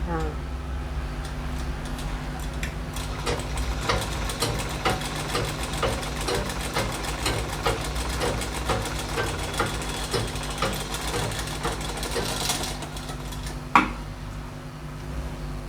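Sewing machine stitching a chudithar pant, a steady rapid mechanical whir with a faint rhythmic knock that runs through the whole clip, with one sharp click near the end.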